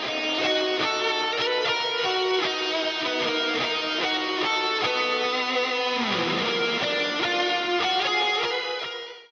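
Distorted electric guitar solo played through an Archetype Pliny X amp preset in a metal Halloween song, a dense high-gain lead over a driving full-band mix with a bending dive midway, loud and continuous.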